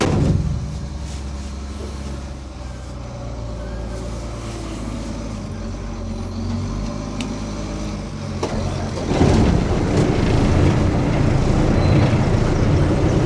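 A truck hauling during corn harvest drones steadily in a low rumble, close and continuous, with the engine note roughening and rising slightly near the end.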